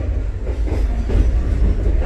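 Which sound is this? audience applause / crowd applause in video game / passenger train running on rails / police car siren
passenger train running on rails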